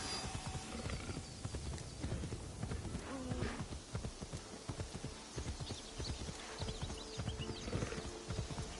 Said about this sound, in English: It takes some guts to try to make a horse go through that